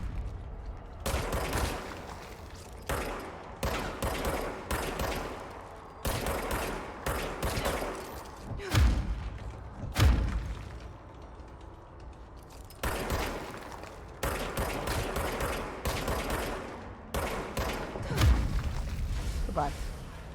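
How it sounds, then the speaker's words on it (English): Rapid automatic gunfire from the video game Control, repeated loud bursts with short pauses between them and occasional heavy thuds, while someone talks over the shooting. "They're shooting back now."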